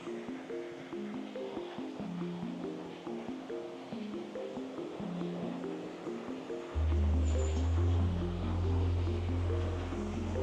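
Steady rushing water of a high river flowing under a bridge in a canyon near Fethiye, Turkey, growing noticeably louder and fuller partway through, with a broad roar beneath scattered lighter splashing.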